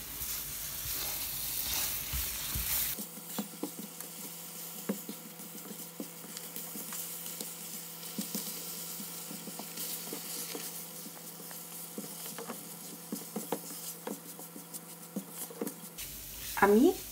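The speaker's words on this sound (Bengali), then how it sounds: "আমি 1 কাপ ময়দাতে টেবিল চামচের 3 চামচ বাটার দিয়ে দিলাম।" Three tablespoons of butter and a cup of flour sizzle softly in a pan as a white sauce base, with continuous stirring scrapes and small crackles throughout, faint background voices at the edges.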